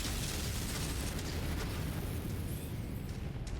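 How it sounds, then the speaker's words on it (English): Missile explosion striking a target in a video game, a continuous loud roaring blast with rumbling debris sustained throughout, no speech. "Got a head hit with the missile there."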